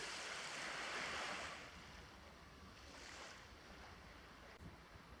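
Wind rushes steadily across the microphone at the seaside as a broad, noisy roar, strongest in the first second or so, then easing slightly but continuing throughout.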